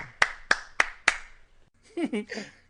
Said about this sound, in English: Station master applauds.